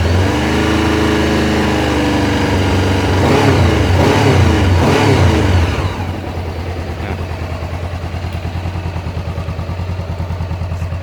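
A Honda CBR500R motorcycle engine revs hard and close, swelling through two quick throttle blips before dropping to a steady, throbbing idle that carries on to the end.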